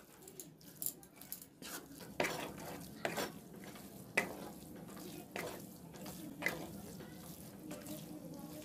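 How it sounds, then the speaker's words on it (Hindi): Semolina being stirred and roasted in ghee for halwa, quiet scraping strokes of a spoon against the pan at a regular pace over a faint sizzle, close up and without talk. "सूजी का भी हमें और भूनना है,"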